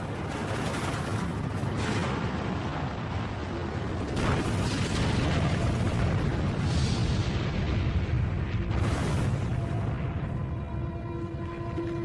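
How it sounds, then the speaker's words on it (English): A Mercury Atlas prototype rocket, carrying a capsule on its tip, ignites and lifts off with a sustained, loud, deep roar that rumbles steadily and swells slightly for about twelve seconds. "a Mercury Atlas prototype rocket was launched with a capsule attached to the tip"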